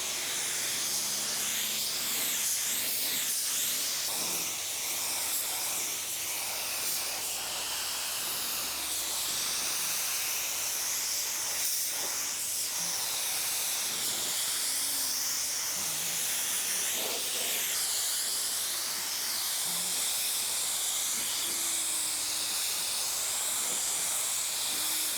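A spray gun hisses steadily as it lays clear coat onto a car bumper, an even, continuous spray close by with slight surges and no voices.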